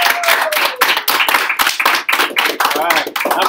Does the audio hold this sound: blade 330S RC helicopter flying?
no